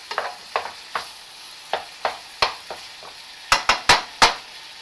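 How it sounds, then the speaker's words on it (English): A wooden spatula taps and scrapes against a pan of frying food, chopping and mixing with a dozen or so sharp knocks in an irregular rhythm, clustering faster near the end over a faint sizzle. "As you can see with my wooden spatula here, I'm just kind of chopping it too."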